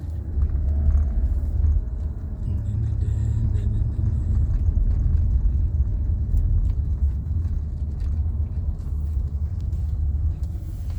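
A car driving along a road, a steady low rumble of engine and tyres throughout, close and continuous, with no talking.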